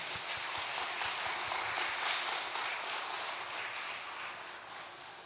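A congregation at a Wednesday evening prayer service applauds to welcome visiting pastors and their wives, producing a dense, continuous wash of clapping that swells, then slowly fades toward the end.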